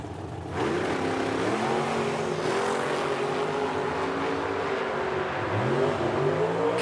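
A little Ford Mustang drag car launches in the right lane at a drag strip in Edmonton, Alberta, beside a dragster, its engine roaring loud and sustained, revs rising and shifting in pitch over several seconds.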